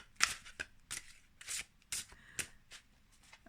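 Tarot cards being shuffled and pulled from the deck: quick papery riffles and flicks in short bursts, close and fairly soft, with brief pauses between them and no speech.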